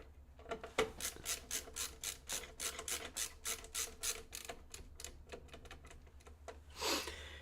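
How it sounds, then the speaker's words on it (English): Quiet, close clicking and ratcheting of screws being driven in during a PC build with an AMD 7800X3D and RTX 4090, a busy run of small taps and scrapes ending in a brief rustle. "doing a PC build where you have to screw in a whole bunch of screws as part of it"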